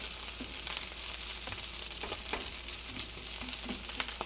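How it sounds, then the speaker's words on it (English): Chicken fried rice with rotisserie chicken sizzling and frying in a pan, a steady dense crackle with occasional stirring scrapes, close and continuous. "So this meal comes together pretty quickly, fries up pretty quickly"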